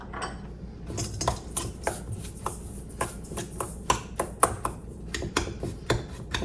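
Brown sugar and ground cinnamon being mixed in a bowl, with a spoon or utensil clinking and scraping against the bowl in a steady, close rhythm of light taps and no speech.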